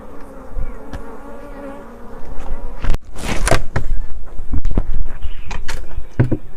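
Honey bees buzz around backyard beehives, a loud near drone with bees sweeping close past in bursts, plus a few knocks and scrapes at the hives.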